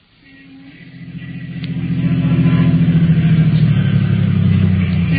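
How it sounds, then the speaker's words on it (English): Radio-drama sound effect of a car pulling to a stop in front of a house in East Baltimore: a low engine rumble swells louder and holds steady, close and alone without voices. "Two men were riding in a car which was pulling to a stop in front of a house in East Baltimore."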